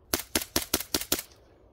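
Six rapid shotgun blasts sound in a video game, sharp and evenly spaced about a fifth of a second apart, close and loud with a short decay after the last shot and no talking.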